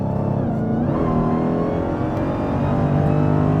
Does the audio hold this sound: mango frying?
no